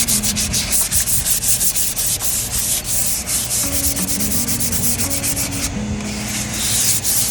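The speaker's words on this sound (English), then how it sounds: "I'm gonna go ahead and sand back any texture, just real lightly" A particle board dresser sanded lightly by hand: loud, close, continuous rubbing and scratching strokes in a fast, even back-and-forth rhythm, with no voices over it.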